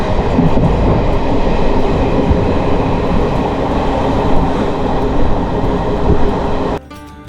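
The Palaruvi Express runs at speed past farm fields, a dense, loud, continuous rumble and rattle of wheels and carriages that holds steady, then drops off abruptly near the end.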